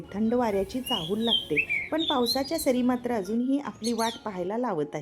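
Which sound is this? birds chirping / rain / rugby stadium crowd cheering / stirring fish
birds chirping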